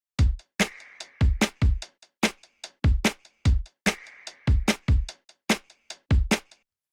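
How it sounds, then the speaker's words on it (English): Drum beat with lo-fi saturated hi-hats, a looping groove of punchy low kicks and gritty, crunchy cymbal ticks with a hissy sustained wash, steady rhythm, close and mixed without voices. "added lo-fi, which gives the hi-hats this kind of sound"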